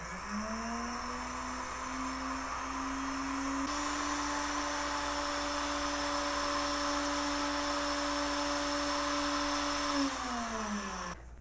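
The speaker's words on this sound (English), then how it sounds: "that auto fabric advance on the deluxe table makes unwinding it super simple" An APQS longarm quilting machine's deluxe table auto fabric advance runs steadily as it unwinds the quilt canvas, a loud continuous motor whine that shifts pitch upward after a few seconds, holds, then winds down near the end.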